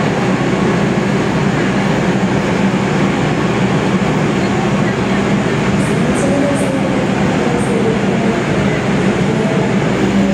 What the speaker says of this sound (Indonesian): KRL tujuan Palur diberangkatkan